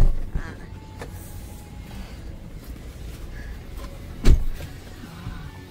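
Car ride toward Lempuyang Temple in Bali, a steady low engine and road rumble inside the cabin with a brief thump midway, under occasional talk.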